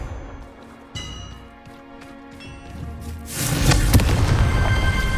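A Confringo blasting spell fired in Hogwarts Legacy: low rumbling and scattered cracks build up, then a loud, sustained crackling burst of explosive noise fills the final two seconds, with no voices.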